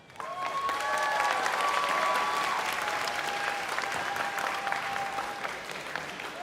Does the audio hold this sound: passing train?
no